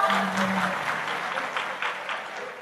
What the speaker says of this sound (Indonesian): Kok udah tepuk tangan toh?